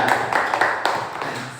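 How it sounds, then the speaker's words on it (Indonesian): Classroom applause from a group of students, a brief burst of many hands clapping at close range that runs steadily through the whole moment with no talk over it. "Tepuk tangan buat Jadi."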